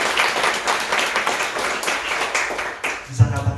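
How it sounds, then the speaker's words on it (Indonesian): A church congregation breaks into lively applause, a dense wash of many hands clapping together, closing with a couple of heavier thumps. "Sekali lagi berikan tepuk tangan untuk Tuhan Yesus."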